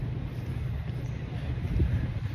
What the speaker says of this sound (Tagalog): sarap na ng hangin dito